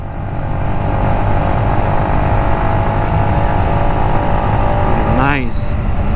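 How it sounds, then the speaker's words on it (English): A Yamaha MT15 motorcycle leaning through a curve, its engine droning steadily and loudly at close range throughout, with a brief rising whine near the end. "The motorcycle just plants on that curve"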